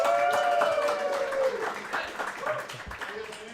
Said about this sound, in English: Please give them a round of applause for BVille.